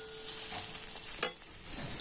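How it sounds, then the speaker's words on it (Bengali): Lightly fried grated carrot crackles softly in oil, a faint low hiss with a single sharp scrape of stirring partway through. "তো দেখুন গাজরটা কিন্তু আমি একটু ভাজা ভাজা করে নিয়েছি"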